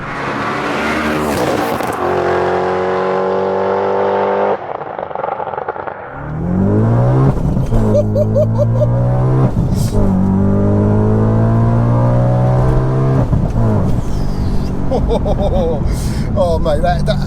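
Supercharged 629bhp Audi RS4 pulling hard off the line with launch control in first gear: a loud, rising engine roar that climbs through the revs, drops back at a gear change and surges again, with people talking over it.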